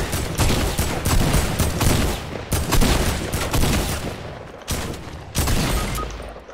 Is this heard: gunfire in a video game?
yes